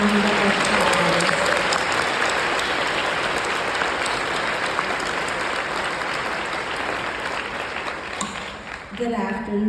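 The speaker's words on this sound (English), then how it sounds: "Let's give them another wonderful round of applause." A conference audience at a keynote session gives a long, full round of applause, dense steady clapping filling the room that fades toward the end as a speaker's voice comes in.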